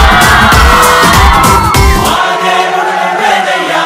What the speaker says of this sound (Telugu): మా ఎక్స్ప్రెస్ రాజాలో మీ అరుపులే మాకు మెరుపులు